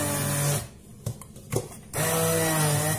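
A kitchen blender whirring through a two-ingredient homemade ice cream mix, loud and steady, cutting off for about a second and a half with a few soft knocks before the motor roars back up.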